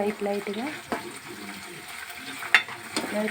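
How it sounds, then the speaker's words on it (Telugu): Ginger garlic paste and curry leaves fry with onions in a pan, sizzling steadily up close, with stirring scrapes and clinks of a utensil against the pan and a few sharp taps. "కొంచెం వేగిన తర్వాత అల్లం వెల్లుల్లి పేస్ట్, కరివేపాకు వేసుకొని కొద్దిగా వేగాలండి."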